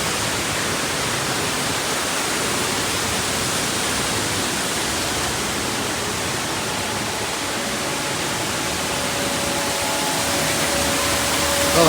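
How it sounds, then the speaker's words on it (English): The indoor waterfall inside the Gaylord Opryland Hotel in Nashville, heard from a cave behind the falling water, gives a dense, steady roar of rushing water that stays constant and enveloping the whole time. "Down here we have this cave"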